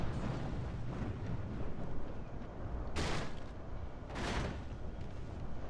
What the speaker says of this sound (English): Yeah, they're just firing point blank into the back of me